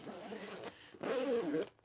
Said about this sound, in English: These zippers move great. I love YKK RC zips.